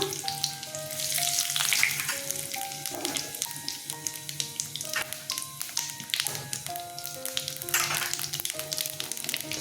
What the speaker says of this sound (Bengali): সর্ষের তেল দিয়ে দিচ্ছি শুকনো লঙ্কা তেজপাতা দিয়ে দিলাম সাদা জিরে ফোড়নে দিলাম